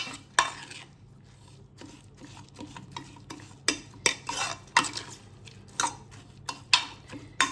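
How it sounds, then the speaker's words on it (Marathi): A ladle stirs and mashes a mung dal mixture in a metal pot, giving repeated scraping knocks and clinks in an irregular rhythm, close by, over a faint sizzle. "आता याला मस्त असं घरटून घ्यायचे थोडंसं पळीने"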